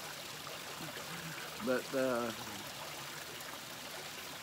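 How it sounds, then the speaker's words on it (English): A waterfall rushes as a steady, broad wash of water noise throughout, while someone briefly speaks a word over it partway through. "Got the waterfall. You can just fall asleep listening to that."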